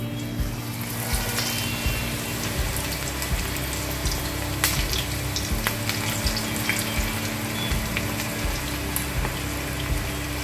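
Okra frying in hot oil for crispy bhindi: a loud, continuous sizzle and crackle with scattered pops and a low steady hum, carrying on without any talking.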